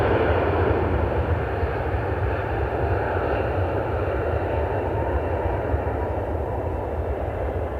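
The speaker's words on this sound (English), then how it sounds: "737 taxiing for Delta flight" Delta Boeing 737 jet taxiing at Cleveland Hopkins airport, a steady broad engine roar and rumble held at an even level throughout, moderately distant, with no talk.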